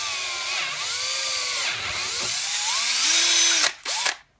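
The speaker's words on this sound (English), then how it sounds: "now we're gonna start drilling the rest of the holes" A power drill whirs steadily at close range, its pitch rising and falling as it bores holes in a knife sheath, then winds down and stops.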